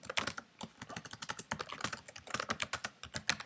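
Rapid, close typing on a computer keyboard, a dense, steady run of crisp key clicks with no voice over it.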